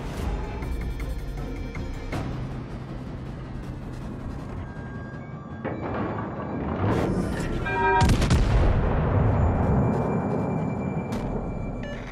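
Warship artillery in the World of Warships Legends naval battle game: a rumbling, booming barrage with a heavy salvo blast midway, followed by a sustained roar of gunfire and explosions.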